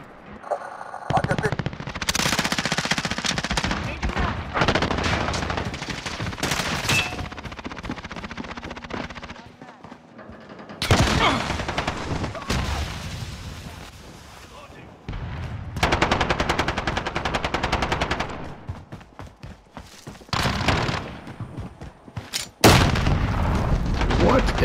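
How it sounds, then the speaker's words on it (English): Call of Duty team deathmatch on the Piccadilly map, with bursts of machine-gun fire and booming shots coming in clusters between pauses, while a player talks over the action. "Stop shooting at me."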